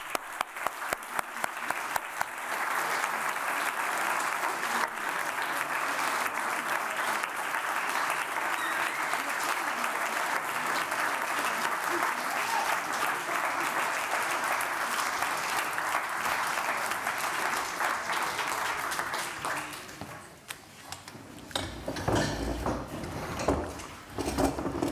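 Sustained applause from a seated audience welcoming the debaters of the Debattierclub Hamburg at a debate event, a dense even wash of clapping for about twenty seconds before it thins into scattered claps and rustling.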